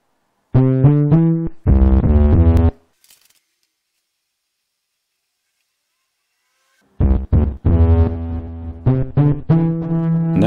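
Short, gritty synthesizer notes played through overdrive and delay effects in quick phrases, separated by a pause of silence. The tone is distorted and buzzy.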